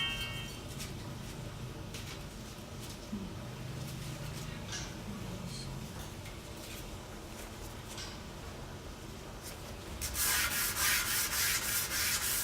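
Sandpaper rubbing back and forth over lacquered wood in steady strokes, close by, growing louder and harsher toward the end.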